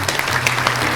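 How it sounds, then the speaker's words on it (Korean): A short burst of dense applause, loud and continuous, marking a coding channel's milestone of 1000 subscribers. "박수 한번 주세요"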